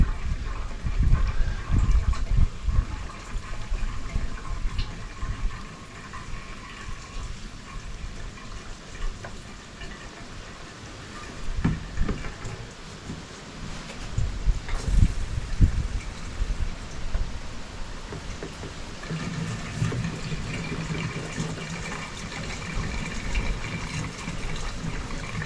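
A few litres of fuel pour into a quad bike's tank in a long, continuous splashing trickle that swells and eases as the flow shifts, heard close with no voices over it.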